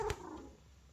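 A domestic cat purrs close by, a low rumbling burst at the start that fades quickly over about a second, with no talking.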